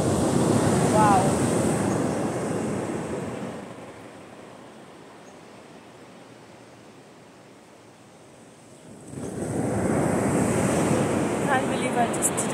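Surf breaks and washes onto a beach at Haad Farang on Koh Mook, Thailand, loud broadband roar at the start and end with a quieter lull between, wind buffeting the microphone throughout.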